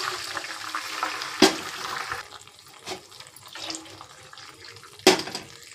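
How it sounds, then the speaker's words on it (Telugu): Three glasses of water poured into a pot for cashew upma, a close splashing gush with a few sharp knocks from vessels against the pot, no talk. "ఇప్పుడు 3 గ్లాసుల వాటర్ అయితే యాడ్ చేస్తున్నానండి"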